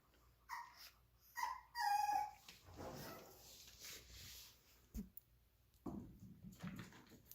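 Jealous older Chihuahua puppy whining and yipping in short, uneven bursts close by, with quiet gaps between cries.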